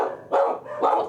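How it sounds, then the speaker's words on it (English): A dog barks indoors, two loud, close woofs about half a second apart, with no talking over them. "What are you barking at?"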